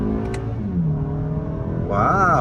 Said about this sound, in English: start a little acceleration run in first gear and see what it's got